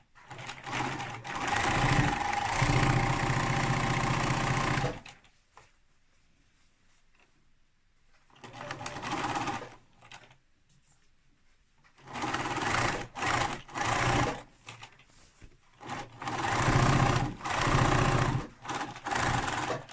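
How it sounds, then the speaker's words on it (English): A sewing machine stitches a tote bag in loud, close bursts of rapid mechanical whirring, broken by quiet pauses and short stop-start runs. "So I always stitch a bit over the previous stitching."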